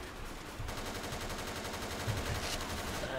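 Rapid automatic gunfire rattles on steadily in a dinosaur survival video game, a continuous stream of evenly spaced shots that grows slightly louder partway through and never pauses.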